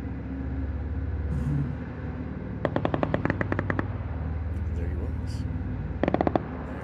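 Machine gun fire in the PUBG video game, two rapid bursts of sharp shots over a steady rumbling engine-like background, with a voice talking earlier in the clip.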